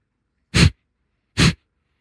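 Two sharp, forceful nasal exhalations of Kapalabhati breathing, each a short loud whoosh of air about a second apart, close up, with silence around them.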